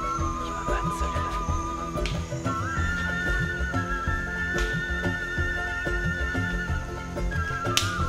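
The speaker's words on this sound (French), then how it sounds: "nous entendons une troupe de cochons-bois, des pécaris à lèvres blanches" A troop of white-lipped peccaries close by in the forest, giving dense, continuous squealing and whistling calls with grunting underneath, steady and fairly loud throughout.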